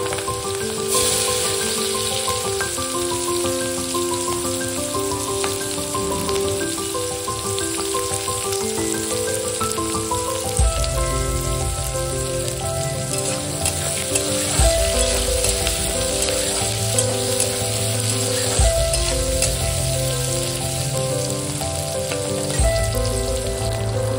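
Steady oil sizzle from onions frying runs throughout, with a low steady hum underneath and occasional crackles; no voices.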